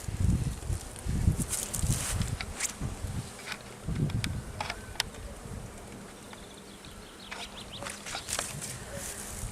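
Honeybees buzz and hum in an opened beehive being rescued at the end of winter, a faint steady drone with louder close passes near the beginning, alongside handling noises.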